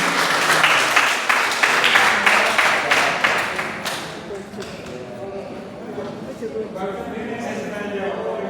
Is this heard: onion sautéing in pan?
no